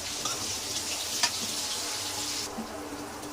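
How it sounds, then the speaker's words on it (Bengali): Onions frying in a pan, a continuous bright sizzle close by with a faint clink partway through and no talking. "পেঁয়াজগুলো আগে একটু ভেজে নিব"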